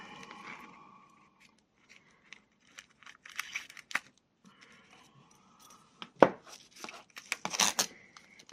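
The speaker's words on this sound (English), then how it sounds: "Grab my scissors" Scissors snip through sticky tape and printed paper on a junk journal craft project, with sparse, separate cuts and some crinkling. Sharper, louder snips cluster toward the end, alone and close up.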